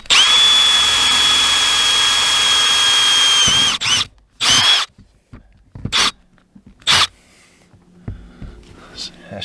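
A power drill bores a hole through a piece of aluminum cap trim on an RV, one loud sustained whine for several seconds, followed by short bursts and clatter nearby.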